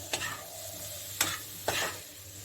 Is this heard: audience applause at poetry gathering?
no